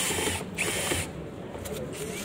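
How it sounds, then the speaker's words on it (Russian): Power screwdriver backing a self-tapping screw out of expanded polystyrene insulation board, a short close whirring burst that stops and restarts with a ratcheting edge. "выкрути тот саморез"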